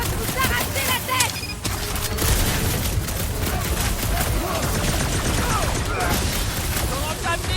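Heavy cannon fire and artillery from the Nova forces in the Guardians of the Galaxy video game, a dense, continuous barrage of booms and bursts with game music and voices mixed in.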